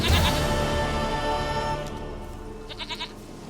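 A goat bleats in the video game The Witcher 3, a loud wavering cry at the start over steady game music, followed by a few fainter, shorter bleats near the end.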